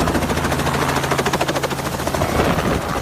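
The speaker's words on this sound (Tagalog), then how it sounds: "Mukhang may napapadaan na helicopter dito sa" A helicopter passes over a new road between Lingayen and Binmaley, its rotor chopping in a steady, fast pulsing thud that stays loud and close for three seconds with no talk.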